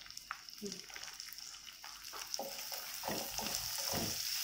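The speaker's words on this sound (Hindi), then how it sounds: "ब्राउन होने तक प्याज को सेकेंगे" Onions frying in a pan until browned, a steady close sizzle broken by scraping stirs of a spoon against the pan that grow busier toward the end.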